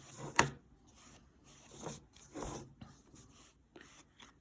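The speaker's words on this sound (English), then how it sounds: "we're just going to rub that ink into the stamp pad" Ink being rubbed into a stamp pad makes a soft, dry scrubbing rasp in several short strokes, with one sharper scrape near the start, faint and close up.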